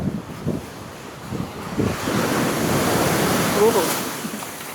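Ocean waves wash and surge steadily on a beach in West Sumba, Indonesia, mixed with buffeting wind noise, with no clear talking.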